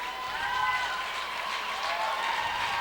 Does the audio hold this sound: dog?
no